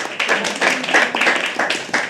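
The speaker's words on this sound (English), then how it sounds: "can we have a huge round of applause for Harsh and Harsh's dad?" Audience applause at a live poetry open mic night at The Habitat, a dense, steady spatter of many hands clapping at close range, loud and continuous with no talk over it.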